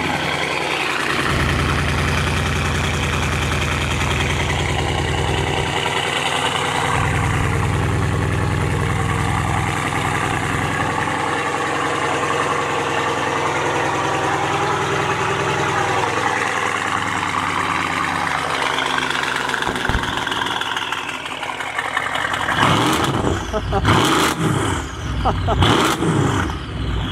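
A powerful car engine rumbles loudly at idle, then revs hard several times near the end with rising roars, while people talk over it.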